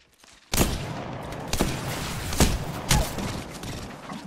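Bursts of video-game gunfire, a sharp opening volley followed by several more loud, separated shots over a steady noisy bed, no voices.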